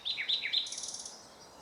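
A nightingale sings a short phrase of bright, whistled chirps followed by a buzzy trill, clear and fairly close, then fades out with no one speaking.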